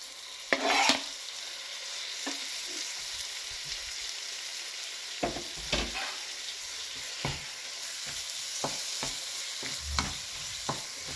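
Masala for chicken kosa fries in a pan with a steady close sizzle, broken by occasional scrapes and taps of a spatula as it is stirred.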